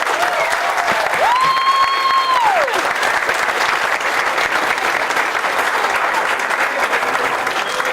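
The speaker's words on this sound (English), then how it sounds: "give yourself a round of applause" Sustained crowd applause at the Waverly, Iowa celebration of the 2014 Bark For Your Park win, steady and dense for the full stretch, with a brief whistle-like tone rising and falling early on.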